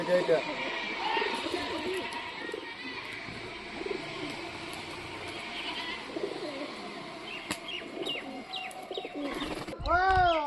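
Native domestic pigeons coo in soft, repeated throaty calls nearby, with a person talking over them and a louder burst of cooing near the end.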